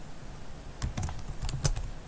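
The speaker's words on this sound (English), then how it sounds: "Now I've been typing on this whole time" Fingers tap on a computer keyboard while coding, a quick run of separate clicky keystrokes that grows busier in the second half over a steady background hiss.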